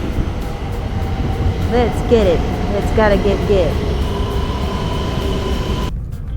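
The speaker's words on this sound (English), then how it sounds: "Look at how stable this magnificent bullet train is." Japanese bullet train heading to Niigata, heard from inside as a steady low rumble and hiss of the running train, with people talking and singing over it before a sudden cut near the end.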